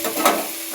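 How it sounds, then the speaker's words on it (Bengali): Tomatoes cooking in a pan being stirred, a short close burst of sizzling with a brief scrape of the utensil in the middle, no voices. "এরকম নাড়াচাড়া করতে হবে, আর এরকম একটু করে নাড়াচাড়া করতে হবে"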